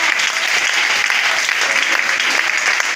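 Church congregation clapping hands in a French-language worship service, a dense, steady burst of applause from a large crowd, loud and continuous throughout.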